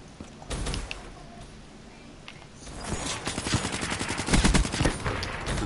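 Dense bursts of gunfire from Black Ops 3, rapid automatic volleys and single shots that start sparse, then build into loud, continuous shooting toward the end.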